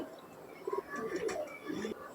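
Teddy pigeons coo softly in a few low, rolling calls, faint and somewhat distant, with no speech over them.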